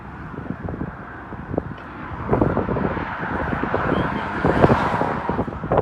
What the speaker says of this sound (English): Highways buzzing by.